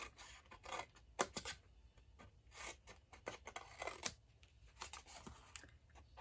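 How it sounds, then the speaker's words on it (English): Scissors snipping along the score line of a paper candle box template, a string of close, crisp cuts in irregular bursts with quiet paper rustling between them. "We're going to cut on the long side. We're going to cut straight up the score line and wedge in."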